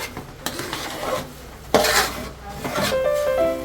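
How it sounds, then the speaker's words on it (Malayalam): A spoon scrapes and stirs chicken masala in a metal pan after ghee is poured in, with several sharp clanks and rasping strokes over a soft sizzle, close and fairly loud, then a few ringing metallic tones at the end. "നെയ്യ് ഒഴിച്ചിട്ട് അത് നല്ലോണം ഒന്ന് മിക്സ് ചെയ്യാം."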